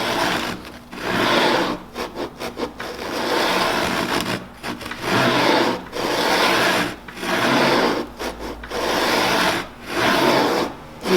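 Router plane cutting a dovetail dado into wood for a stair housing, repeated rasping strokes in bursts of a second or two separated by short pauses, close and fairly loud.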